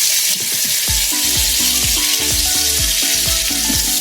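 Pointed gourd and shrimp fry in a pan with a steady, close sizzle, overlaid by a run of repeated soft tonal clinks and knocks in an even rhythm, with no talking.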